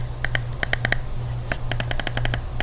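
Sharp, close clicks from pressing the touchpad on a Hori Onyx PS4 controller, coming singly and in quick irregular clusters over a steady low hum.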